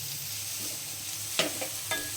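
Capsicum stir-fried over a high flame for a vegetable cheese sandwich filling, a soft steady sizzle with a few sharp clinks of a spatula against the pan near the end.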